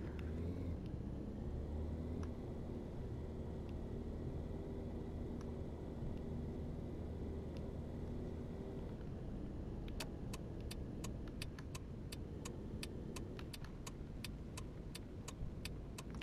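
Steady car engine hum of a taxi driving at night in the game Taxi Life, a continuous low rumble with a faint rhythmic ticking joining partway through.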